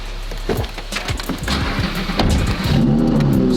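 Stock Lamborghini Huracan Performante accelerating, a loud close engine rising in revs with gear-change dips, then a rumbling, steadier tone near the end, with no talk.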